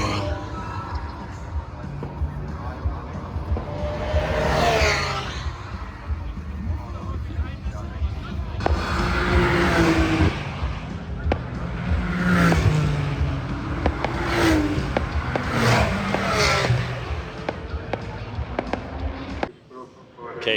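Race cars passing at night during the Nürburgring 24 Hours, several loud engine roars sweeping by one after another with rising and falling pitch, heard from a high trackside spot while people talk nearby.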